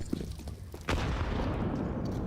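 A grenade bursts in a Counter-Strike esports match, one sharp blast followed by a sustained rumbling wash that stays loud to the end.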